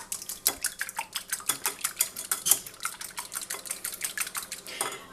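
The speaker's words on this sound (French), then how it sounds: "Donc je vais battre un œuf dans un bol" An egg is beaten in a bowl with quick, steady clinks and scrapes of utensil against the bowl, loud and close, repeating in an even rhythm with no talk.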